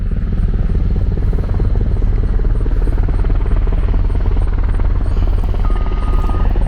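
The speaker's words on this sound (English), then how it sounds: "it looks like I think this might be an Army helicopter" A helicopter's rotor thumps loudly and steadily throughout, a constant rapid chopping drone close overhead with no voices.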